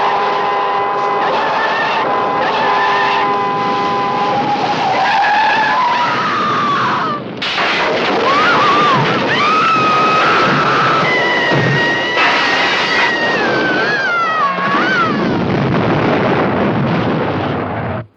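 A car skids, tumbles over and crashes against a boulder and then an oak, in a dramatized story scene: a long, loud stretch of screeching tyres, rising engine whine and crunching impacts with a brief dip partway through, all without speech.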